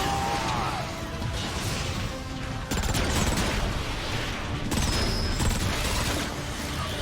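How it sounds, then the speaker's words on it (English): A grenade blast amid gunfire in the video game Fall of Cybertron: a dense, unbroken wall of rattling shots and mechanical clatter, with a louder surge near the middle. "Grenade heading out!"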